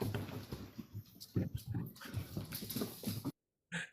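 Dogs whimper and whine in a room, several short soft cries in an uneven stream, fairly close, ending in a brief silence before a last burst.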